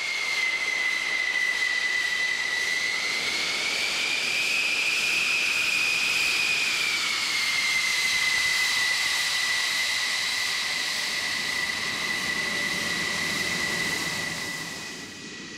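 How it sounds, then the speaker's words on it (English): Twin Pratt & Whitney TF-30 afterburning turbofans on a Grumman F-14 Tomcat throttle up for a runway takeoff run, a loud, steady roaring hiss with a sustained high whine that fades slightly at the end, with no talking. "Watch as Lieutenant Doyle advances the throttles of the two Pratt & Whitney TF-30 afterburning turbofans and accelerates down the runway"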